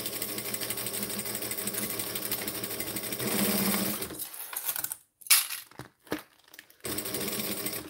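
Sewing machine stitching a seam at a steady, whirring hum, loud and close, then pausing as light clinks and taps follow before the stitching resumes near the end.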